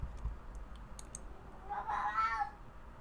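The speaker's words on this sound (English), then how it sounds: "You guys are hearing my cat talk to us." Pet cat meowing once, a drawn-out close meow after a few faint clicks, with no talking.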